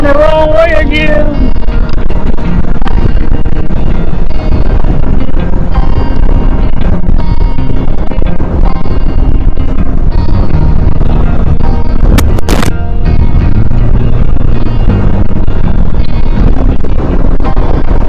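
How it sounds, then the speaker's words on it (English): Strong wind blasting the microphone at a lakeside campground on Lake Texoma, a loud continuous roar with buffeting gusts throughout, a voice speaking faintly beneath it. "How strong that wind is."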